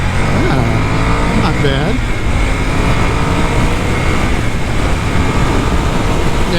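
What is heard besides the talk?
2022 Ducati Scrambler Urban Motard motorcycle accelerating from first gear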